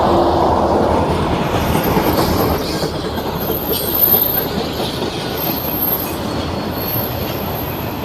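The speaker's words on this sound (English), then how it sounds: "Oh, look, a train." A train rolls past close by, loud rumbling wheels with clickety-clack and squealing, gradually easing slightly over several seconds, no voices over it.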